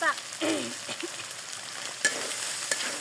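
Meat sizzles and fries steadily in a pan in a village kitchen, a soft continuous crackle with occasional stirring clinks and scrapes, no voices.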